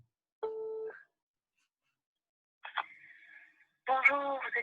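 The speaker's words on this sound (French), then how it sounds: "Telephone's calling" A telephone call plays electronic tones: one steady beep, a pause, then warbling ring-like tones that come in bursts, fairly faint.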